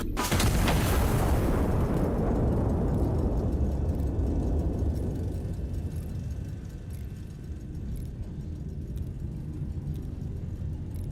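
A heavy artillery cannon fires a volley in a video game: one loud, close, low boom at the start that fades into a long rumbling decay lasting several seconds.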